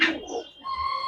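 A Giribaz highflyer pigeon coos softly up close, a short low burbling call followed by a brief higher tone, with no talking.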